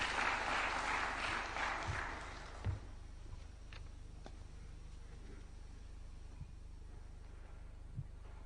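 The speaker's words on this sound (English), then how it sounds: "Why don't we welcome him with a warm clap?" Audience applause at a State House event welcoming a French Minister of State for Francophonie and International Partnerships, fairly loud in the first two to three seconds and then fading to a faint room hush with a few scattered knocks.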